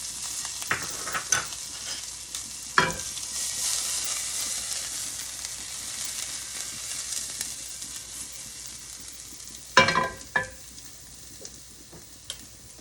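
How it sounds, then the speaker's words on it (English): Garlic butter fries in a hot stainless steel pan with a continuous close sizzle, broken by a few sharp utensil scrapes and clatters, with no voices. "the first thing I'm going to add is a little bit of this garlic butter"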